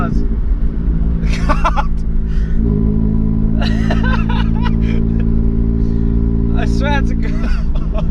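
A 1-litre car with a loud, exploding exhaust rumbles and idles close by, with harmonic engine tones and bursts, while someone speaks and laughs over it.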